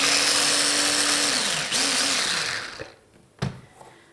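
A food processor grating potatoes whirs with a steady motorized hum, then winds down and stops, followed by a single sharp clunk.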